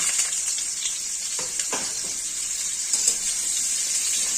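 Drumsticks (moringa pods) sizzling as they fry in hot oil in a pan, a steady hissing crackle with a few soft clatters as they are dropped in, no voices.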